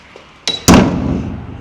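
A steel frame door is locked in two quick metallic knocks, a lighter clack then a heavier clunk, each with a short ringing tail, close and loud against a quiet room.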